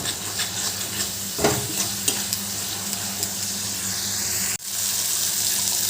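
Turmeric, cumin and chilli powder being stirred in a pan, a close soft sizzle with scraping strokes of a spoon, a sudden cut near the end, then an even hiss.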